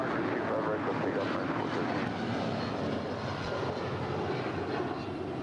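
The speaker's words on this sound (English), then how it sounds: "runway 25 right, clear for takeoff" Airliner taking off from runway 25 right at LAX, a broad continuous engine roar that holds steady throughout, with faint radio chatter mixed underneath.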